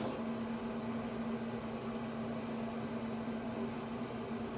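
A Pit Boss Austin XL pellet grill powers up with a steady, low mechanical hum of its fan and motor. The hum is fairly faint and continuous, with no voices.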